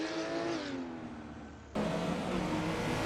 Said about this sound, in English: The two Ferraris tear through the Nordschleife like predators in pursuit, each driver pushing the absolute edge of his machine.